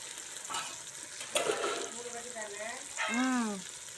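Onion and tomato sauté for a goat intestine curry, giving a steady sizzling hiss with a few clatters as a voice speaks over the pan.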